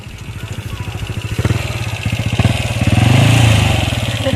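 Motorcycle engine revving repeatedly in neutral, loud and close, with a throaty pulsing idle rising into sustained higher revs toward the end.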